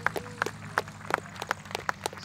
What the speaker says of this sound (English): Let's have a big round of applause, please.